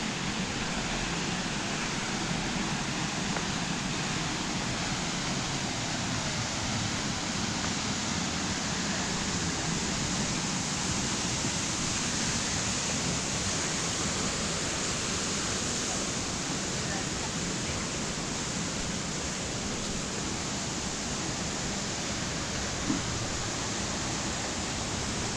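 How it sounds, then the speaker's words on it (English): Waterfall on the Touws River, a steady broadband rush of falling water heard close, constant and unbroken throughout with no talking. "Can you hear the waterfall?"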